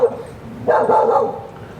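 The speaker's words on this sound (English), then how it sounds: "now Wendell and the neighbor dog are barking at each other" A dog and a neighbor's dog in a yard trading a short burst of barking, heard at moderate distance over a steady background.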